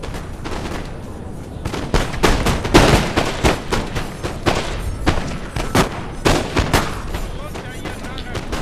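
Cannon and musket fire in a Napoleon Total War battle, a dense stream of sharp cracks and booming shots layered over one another at varying distances, continuous and loud throughout.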